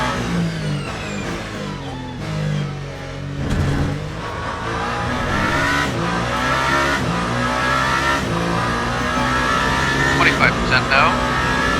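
A race car in the Le Mans Ultimate video game drives at the 24 Hours of Le Mans, its engine note droning and shifting pitch continuously, with someone talking over it throughout.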